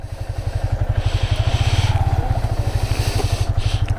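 A vehicle engine idling and pulsing on a ride near Athirapally Waterfalls in Kerala, a fast even low putter like a small motorcycle, loud and close, with faint background noise.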